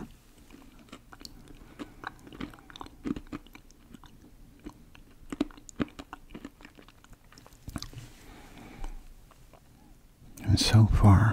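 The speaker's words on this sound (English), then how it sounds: "A nice crunch to them." Close, crisp crunching and chewing of a crunchy Indian snack, irregular bites repeated over several seconds, with a louder burst of rustling toward the end.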